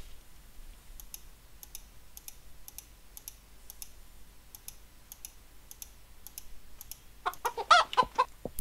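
Chickens in the Minetest video game clucking: a steady train of short, soft clucks and clicks through most of the stretch, then a louder burst of cackling near the end.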